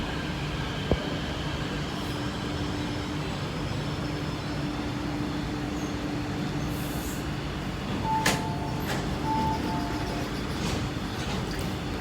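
An MTR Q-train at Kowloon Bay Station hums steadily with a low rumble and faint tonal whine, joined later by short bright squeals and a soft chime-like tone, moderately distant with no talking.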